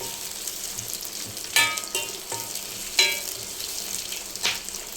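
Green chillies fry in hot oil in a home kitchen, giving a steady bright sizzle with a few sharp clinks and scrapes of stirring, close and alone.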